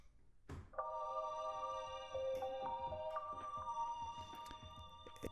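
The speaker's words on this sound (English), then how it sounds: "This is the operator instrument in Ableton" A bright synth tone with bell-like overtones from an Ableton Operator preset, sounding as a series of sustained notes that shift pitch, alone and fairly clear.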